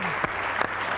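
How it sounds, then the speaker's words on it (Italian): Steady dense applause from an audience at an Italian television interview with Muhammad Ali, a continuous wash of clapping filling the whole second with a few louder claps poking through. "va, un applauso"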